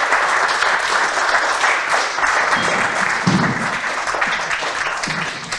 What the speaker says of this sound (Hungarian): A taps nekik jár,